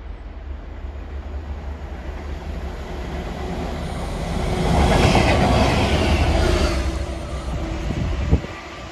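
A DRS freight train, Daventry to Crewe Gresty Bridge, runs through Polesworth station. A rolling rail rumble with wheel clatter swells as it passes close by, then eases slightly, with a sharp clank near the end.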